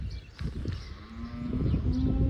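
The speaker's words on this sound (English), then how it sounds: "now they're going to be mooing until I come out" Calves on a farm mooing outdoors, with a drawn-out low moo rising out of a steady rumble of background noise in the second half.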